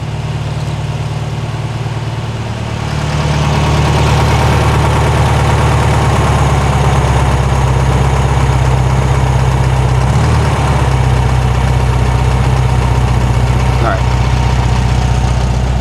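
A 1973 VW Thing engine idles steadily, a loud, continuous low rumble that holds even throughout, with a voice talking over it.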